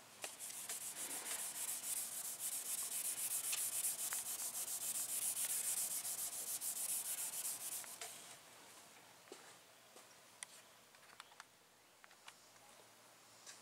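Sanding scuffs up the surface of a 22-inch chrome wheel before painting, a steady close rasping rub for about eight seconds, then stopping and leaving scattered small ticks and taps.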